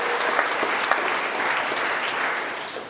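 Applause for the driver of the month at a trucking company's monthly celebration, a steady burst of crowd clapping with a few louder claps, fading slightly at the end.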